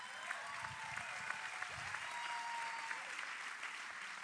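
Audience at a prophetic Christian sermon applauding: steady, dense clapping from a large crowd, fairly distant and soft, sustained without a break.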